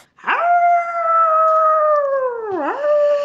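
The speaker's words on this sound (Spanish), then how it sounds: "parecían los gruñidos de un lobo que está a punto de alcanzar algo" A wolf's drawn-out snarling howl used as a sound effect, loud and close, holding a steady pitched tone for about two seconds before dipping and rising again at the end.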